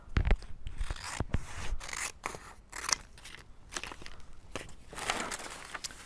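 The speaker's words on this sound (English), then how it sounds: "with my scissors, so I can cut some of this off." Scissors cut through felt in a crafting session for an X's and O's game, giving a close, irregular series of crisp snips and rustling paper-like rubs with no talk.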